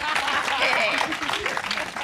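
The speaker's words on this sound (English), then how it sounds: "I want everybody to clap for them" A theater audience breaks into warm, steady applause for the SIX queens' Broadway debut, a dense patter of clapping with a voice speaking over it.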